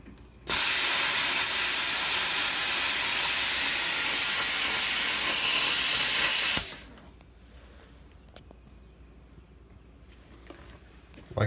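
A plasma cutter slices through the metal of an old trailer in a loud, steady hiss lasting about six seconds, then cuts off abruptly, leaving quiet background with faint clicks and scattered small noises.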